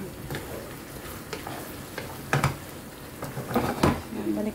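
Eggplant and mushroom sautéing in oil in a pan, a steady close sizzle with occasional stirring scrapes and utensil clicks, louder bursts near the end, under faint background talk.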